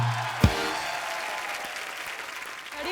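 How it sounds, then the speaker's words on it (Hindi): Strong, steady applause from a TV comedy-show studio audience fills the whole span, with a brief sharp burst near the start, while the host's voice is heard over it. "आप सबकी जोरदार तालियों के बीच"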